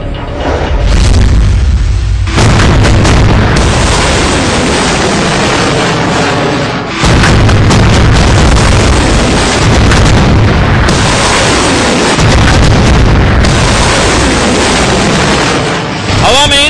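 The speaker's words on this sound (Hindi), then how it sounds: "देखिए, एक के बाद एक फायर होती मिसाइलें कैसे आसमान का सीना चीरते हुए अपने लक्ष्य की ओर बढ़ रही हैं।" Military missiles fired one after another, a continuous loud roaring blast with heavy booming launches, close and dense, with a voice narrating over it.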